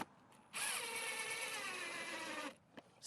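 A power drill drives a fastener while installing vinyl siding, one steady whirring run of about two seconds that starts and stops abruptly, close up, with quiet surroundings before and after.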